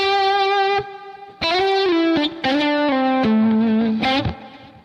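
Lead electric guitar with distortion and a touch of reverb plays sustained, bending notes in a slow solo phrase, loud and close with a soft reverb tail between notes, no talking.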